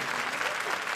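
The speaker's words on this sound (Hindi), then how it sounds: "तालियां।" Studio audience applause on a Disney India teen dance sitcom set, a short dense burst of clapping with crowd noise throughout.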